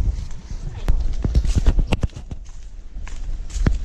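Horse hooves clip-clop on hard ground outdoors, a quick uneven run of sharp close knocks that pauses and then resumes, with background noise and voices around.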